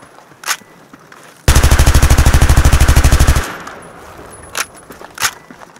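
An automatic gun fires a sustained burst of about two seconds in the video game Battlefield 3, rapid loud evenly spaced shots, with a few faint clicks and thuds before and after.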